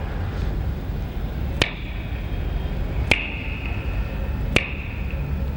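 Three crisp finger snaps, evenly spaced about a second and a half apart, each sharp and ringing briefly, over a low steady background hum.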